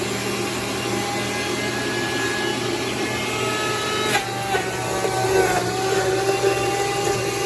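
A food processor pulps strawberries for jam, a loud, steady motor whir with grinding and rattling that shifts slightly in the second half, heard close with no clear talking.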